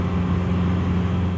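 A Toyota truck swapped with a 1.9L TDI diesel, towing a heavy load uphill in third gear around 3,500 RPM, droning loudly and steadily with a strong low hum and no voices.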